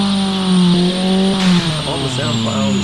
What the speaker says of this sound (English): Very attractive sounding engine